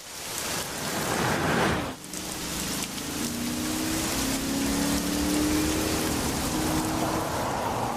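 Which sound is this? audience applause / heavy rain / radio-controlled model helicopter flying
heavy rain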